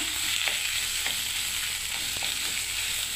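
Flat beans frying in oil in a pan on a low gas flame, giving a steady, close hiss of sizzling with faint scrapes and small pops of stirring, no talk.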